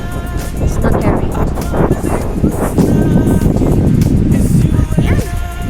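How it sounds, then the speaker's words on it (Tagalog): Wind near Haeundae beach in Busan at night buffets the microphone in loud, rumbling low gusts that run for nearly six seconds, with muffled talk mixed into the roar. "Hangin kasi pa."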